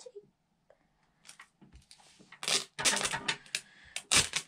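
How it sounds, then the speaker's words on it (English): Strips of adhesive tape laid down in rows while making stickers, giving sharp crackling rips and presses that start sparse and quiet, then build into dense, loud bursts close by. "now we need to add lots of layers of tape"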